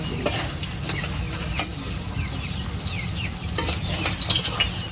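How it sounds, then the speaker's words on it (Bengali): Fish frying in a wok give a steady close sizzle, broken by scraping and clinking from a utensil against the pan. "এই মাছগুলো ভাজা হয়ে গেছে, আর কতগুলো দিয়ে দিচ্ছি আবার কড়াইয়ের মধ্যে"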